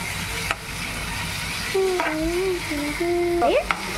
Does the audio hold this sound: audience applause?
no